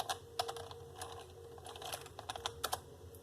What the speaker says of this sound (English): We're going to type in American.